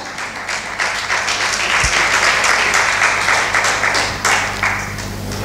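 A church congregation applauding the word of God during a French-language sermon, loud sustained clapping from a crowd that carries on throughout with slight swells.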